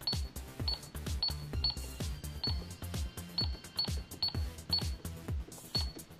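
A toy McDonald's Happy Meal cash register rings out repeatedly, each press giving a bright electronic ding followed by a clunk, in a steady rhythm of about a dozen chimes, close and clear with no talking.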